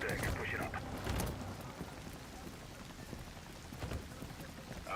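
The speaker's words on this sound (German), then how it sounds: "Regenlevel sind immer geil." Steady rain falls throughout a rainy level of a tactical shooter video game, a dense hiss with occasional louder splashes and thumps layered over it.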